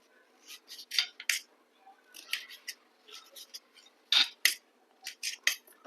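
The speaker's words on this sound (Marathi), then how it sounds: "आपल्याला ही पूर्ण साल काढून घ्यायची" The skin of a red pumpkin is peeled off with a blade in quick rasping strokes, a close, fairly quiet series of short scraping bursts in irregular clusters.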